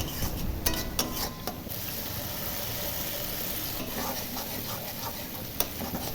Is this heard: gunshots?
no